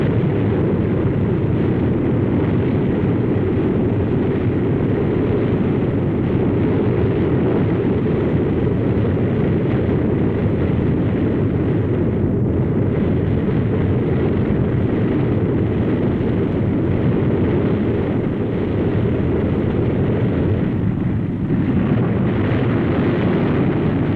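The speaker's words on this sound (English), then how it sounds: "Kansas City Tower, TWA Flight 2, ready for takeoff." A 1950s TWA propeller airliner takes off, its engines droning in a loud, steady, continuous roar throughout with no speech.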